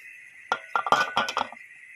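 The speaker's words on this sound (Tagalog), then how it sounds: "Haluin ng konti para kumalat ang lasa ng asin." A spoon clinks against a pot while chicken afritada with salt is stirred, several quick metallic taps in a short irregular burst over a faint steady background hum.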